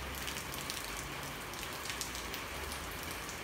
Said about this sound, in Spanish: Escuchar la lluvia.